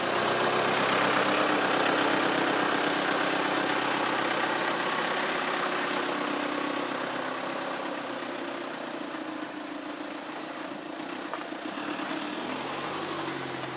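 A car sits idling in a driveway ahead of a test drive after a Bilstein and H&R suspension upgrade, its engine giving a steady, even hum with a faint broadband hiss that eases slightly in level toward the end.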